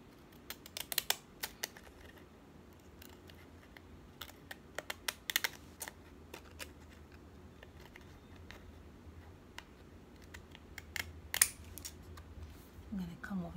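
Scissors snipping a Dollar Tree note card, a series of short, faint crisp cuts close by, clustered in quick bursts with quiet gaps between them.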